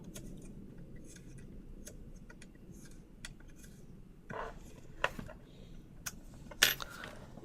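Small screws being undone on the back piece of a painted Nerf Stryfe blaster: quiet, scattered metallic clicks and ticks against a low hum, with a few sharper clacks of plastic near the end, no talk.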